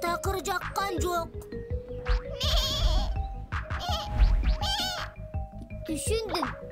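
A cartoon lamb bleats in repeated wavering cries mixed with character voices talking, close and fairly loud, over light background music.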